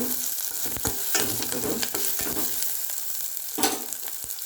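Curry leaves and onions fry in hot oil with a continuous, crackling sizzle, broken by repeated sharp scraping strokes as the pan is stirred, and no voices over it.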